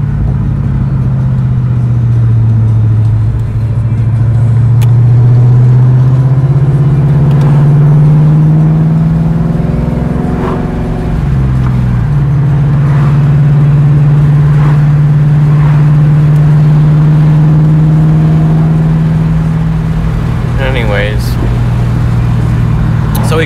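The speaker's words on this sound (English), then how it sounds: "This thing pops when you downshift." A Mustang's engine drones and revs close by, the pitch falling and climbing through gear changes, with a few sharp exhaust pops. Someone talks over it throughout.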